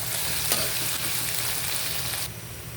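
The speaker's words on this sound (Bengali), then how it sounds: "পেঁয়াজ মরিচ ভাজা হয়ে গেছে" Chopped onion and green chili with whole cumin frying in oil, a continuous close crackling sizzle with a faint stir, steady and loud, no voices.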